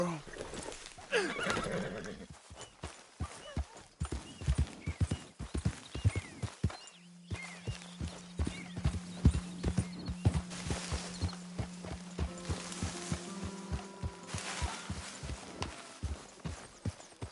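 A horse whinnies and neighs repeatedly with hooves clip-clopping on the ground in a Red Dead Redemption 2 camp scene, loud and close, while characters talk around it and a steady low hum runs through the middle.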